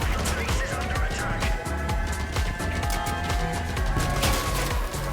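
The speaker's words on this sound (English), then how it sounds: "Are those the projectiles from a Fuji?" Rapid, dense projectile fire from a Fuji weapon in the vehicle combat game Crossout, a continuous crackling barrage with repeated impacts and explosions, steady and loud throughout with no speech.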